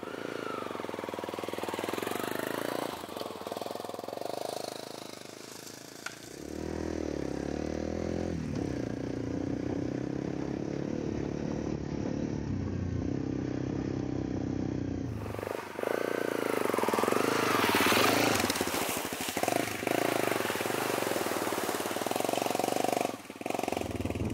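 Motorcycle ridden along the sea coast on the western side of Saaremaa island, its engine droning and shifting in pitch amid strong wind rush, with a quieter idling stretch in the middle.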